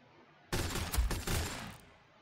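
A short burst of rapid gunfire from Orks in the strategy game Warhammer 40,000: Sanctus Reach, a loud crackling volley with a couple of heavier thumps that lasts about a second and a half before trailing off.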